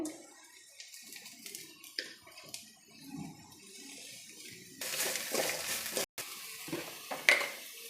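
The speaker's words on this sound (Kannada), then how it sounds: "ಇದನ್ನು ಸೇರಿಸಿ ಎಣ್ಣೆಲಿ ಸ್ವಲ್ಪ ಫ್ರೈ ಮಾಡ್ಕೊಳ್ಬೇಕು." A ground paste of chili, coconut, ginger and curry leaves fries in oil for fenugreek-leaf chitranna, first as faint stirring and soft sizzling, then as a louder, hissing fry from about halfway with occasional utensil knocks.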